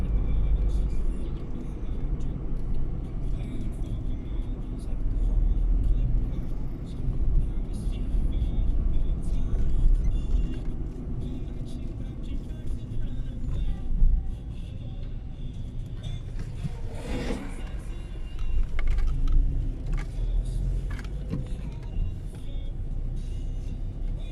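A car driving through Wrocław streets along the promenades from Kleczkowska Street, a continuous low engine and road rumble with passing traffic swells and a brief hiss midway, someone talking over it.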